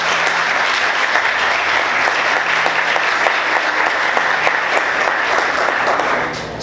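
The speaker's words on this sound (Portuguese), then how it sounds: "Você pode aplaudir o Senhor bem forte?" Church congregation applauding during a service, a loud, dense and sustained round of clapping from many people that holds steady before easing slightly at the very end.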